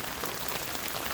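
Heavy spring rain pours down in Bath, Maine, a dense, steady hiss of drops striking surfaces, close and continuous without pause.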